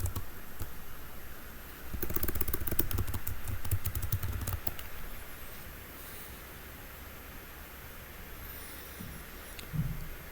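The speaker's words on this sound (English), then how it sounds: "we need to type the password and the username" Someone typing a username and password on a computer keyboard, a quick cluster of faint clicking keystrokes over a few seconds against a quiet background hiss.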